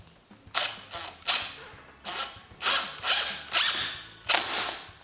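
A power drill drives screws into a pop-up camper roof cap in a series of about eight short, sharp bursts, each a quick whirring buzz with a hard stop, evenly spaced and close up, with no talk.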